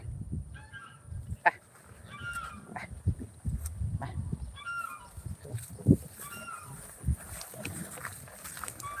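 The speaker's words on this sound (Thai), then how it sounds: "ไปดูเป็ดเป็ดไป" Ducks and geese honk and quack repeatedly at a moderate distance, with scattered calls over a low rumbling background and occasional thumps.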